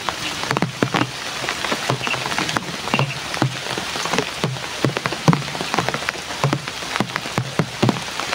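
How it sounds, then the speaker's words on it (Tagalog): Heavy rain pours steadily onto surfaces, a dense continuous hiss broken by frequent sharp drop impacts, close and loud throughout with no voices. "katulad din kanina na lakas yung ulan"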